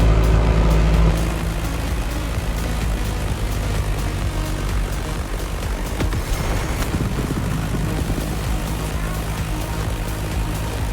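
Propeller drone of an F-8F Bearcat fighter plane in The Crew Motorfest racing game, a steady loud engine roar with a brief heavier burst at the start, continuous and close throughout.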